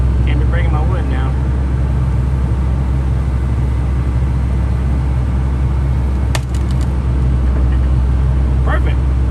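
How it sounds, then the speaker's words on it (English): An excavator works to break 32-inch Assassinator tires off their beads on a 2024 Can-Am Renegade XMR 1000R ATV: a loud, unbroken heavy engine drone throughout, with a sharp clank midway and brief voices at the start and end. "I can't break these tires out of bead, so we're gonna use the excavator"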